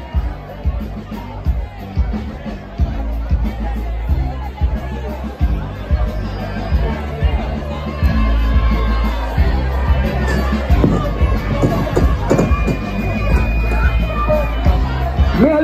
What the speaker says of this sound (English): We are looking at a crowd now